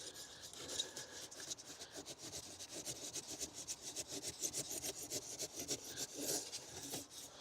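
A hand saw cuts through an insulation brick in quick repeated strokes, giving a soft gritty rasping close by at a steady rhythm, no voices.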